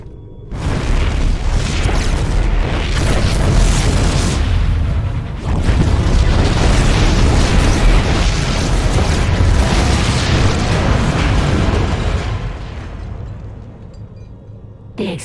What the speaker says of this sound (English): The explosions have stopped.